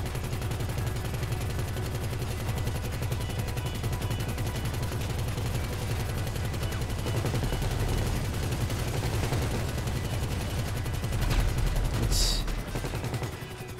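Heavy, continuous gunfire and cannon blasts from a GTA5 PC heist mission aboard a Valkyrie helicopter, a dense rapid rattle throughout with a brighter burst near the end, no talk.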